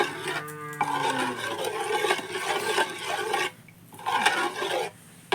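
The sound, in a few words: stirring semolina (suji) with a little water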